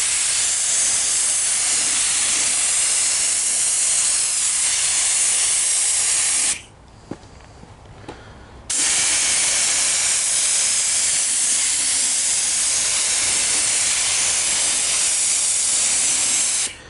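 A spray gun hisses loud and close while painting a plastic Camaro F-Body bumper, a long steady blast that cuts out for about two seconds, then resumes just as strongly.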